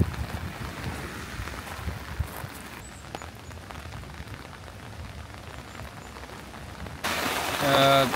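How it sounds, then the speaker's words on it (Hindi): Heavy rain falls on the shore of Lake Garda at Peschiera del Garda as a steady, close hiss of drops, briefly growing louder near the end. "तो बारिश भी बहुत तेज़ है"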